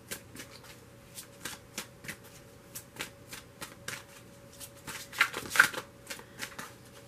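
Angel romance tarot cards are shuffled in quick, soft, riffling bursts close by, with a slightly louder flurry toward the end over a faint background hum.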